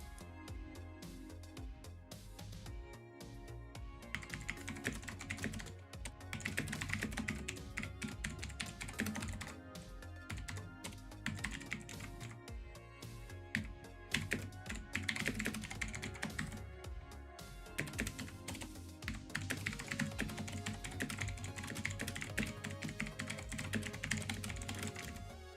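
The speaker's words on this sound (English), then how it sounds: "I realized I'm typing so loud" Rapid, loud clacking of keys on a computer keyboard goes on for a long stretch, dense irregular taps in quick bursts with brief pauses, close to the microphone and without speech.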